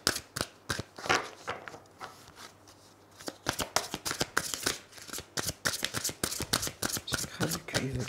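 Tarot cards being shuffled in a reading setting, a close, rapid run of dry riffling and flicking bursts repeating for several seconds, with a brief quieter pause partway through.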